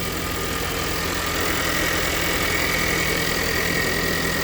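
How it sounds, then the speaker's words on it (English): A Ford Bronco's 4-cylinder turbocharged engine idles steadily at close range, a smooth, even hum with a faint whine above it and no speech. "there it is, your 4-cylinder turbocharged engine"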